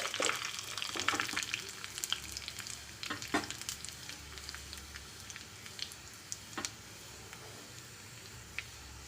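Onion, curry leaves and a dried chilli sizzle in hot oil as a tempering for pumpkin curry. The frying crackles steadily and close up, broken by sharp stirring clicks and pops.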